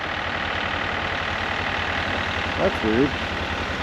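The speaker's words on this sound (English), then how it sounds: "And here's a tractor in the background that's running." A tractor engine idles in the background at a steady, even rumble on a cold winter day in the woods, while a voice briefly speaks over it near the end.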